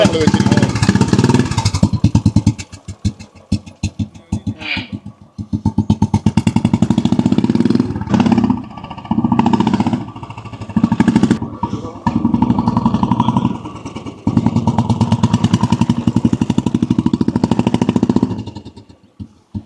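A motorcycle engine thumps loudly in a steady, heavy single-cylinder rhythm, idling and revving up close.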